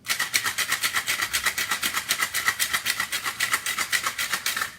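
Pink gin cocktail shaken hard with ice in a shaker, a steady fast rhythm of bright rattling ice strikes, close and fairly loud, continuing for the whole stretch with no talking.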